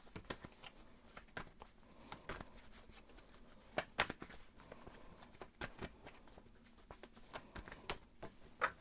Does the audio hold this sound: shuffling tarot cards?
yes